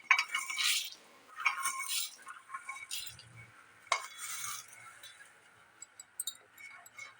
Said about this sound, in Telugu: మీడియం ఫ్లేమ్లో పెట్టుకొని వేయించుకుందామండి. ఇప్పుడు ఒక స్పూన్ ధనియాలు వేసుకుందాం.